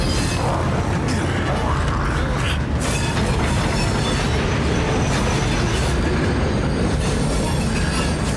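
A moving train rumbles on in the video game Castlevania: Lords of Shadow 2 during its train level. The mechanical roar of wheels on rails is loud, continuous and dense, with faint squeals coming through the noise.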